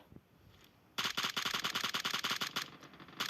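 Automatic gunfire in the mobile game PUBG Mobile rings out as a sharp, rapid burst of about a dozen shots after a quiet start, loud and close, followed by a short pause and another shot.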